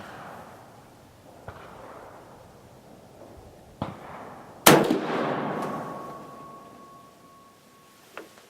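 Steyr M95 long rifle firing 8x56R surplus ammunition outdoors, one loud sharp report with a ringing tail among a few fainter clanks and clicks of the bolt action.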